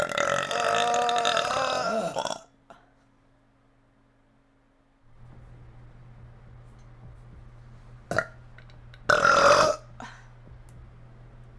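Deep burps from a person: a long, loud, resonant belch, then a stretch of quiet, then short sharp bursts that may be hiccups and a second loud burp near the end.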